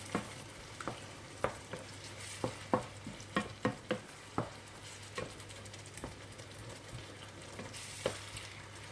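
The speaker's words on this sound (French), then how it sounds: "Alors je vais le laisser mijoter à peu près à petit feu 5 minutes." Sauce simmering gently in a pan on low heat, a soft steady bubbling bed broken by scattered spoon taps and stirring clicks, close by with no talk.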